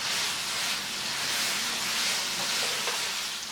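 Pieces of goat head meat frying in a hot pan, a steady, dense sizzle and hiss that holds constant close by, with no talking.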